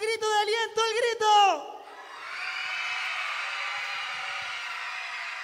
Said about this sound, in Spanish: no nos podemos despedir si no damos un fuerte grito de aliento, ¡el grito!